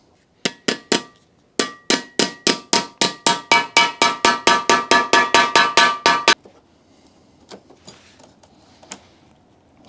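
Hammer blows bending rusty front-wing sheet metal on a Porsche 924, a rapid series of about twenty loud, ringing metallic strikes in steady rhythm, then quiet with a few faint knocks.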